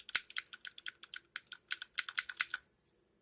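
Sharp mechanical clicks from arcade multiboard JAMMA controls being tested, about twenty crisp presses in a quick irregular run, close and clear, with no talking.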